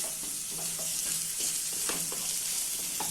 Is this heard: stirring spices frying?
yes